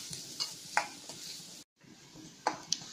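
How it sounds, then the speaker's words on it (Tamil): Finely chopped onion sautéing in a pan toward golden brown makes a low, steady sizzle with scattered clinks and stirring taps, broken by a brief silent gap, no voices. "இத வதக்கிக்கலாம்."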